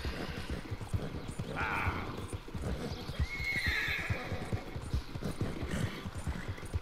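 A horse in the Red Dead Redemption 2 video game clip-clops along at a steady trot or gallop, hooves close and rhythmic throughout, with two short neighs cutting in over the hoofbeats and no talk.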